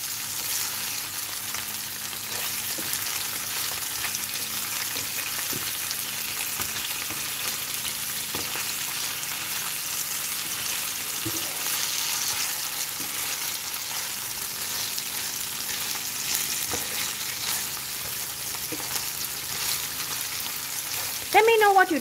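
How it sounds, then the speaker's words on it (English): Fish fries in a pan over moderate heat, giving a continuous, even sizzle throughout with occasional faint utensil clatter and a brief tonal sound at the very end. "I didn't fry the fish in too high heat"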